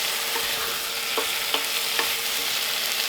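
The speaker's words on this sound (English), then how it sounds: "Cooking well, so in with the beef. You up the heat a little bit just to get this browned off." Beef browning over raised heat in a hot pan for a steak and ale pie, a dense, even sizzle with a few soft clicks of stirring at regular intervals.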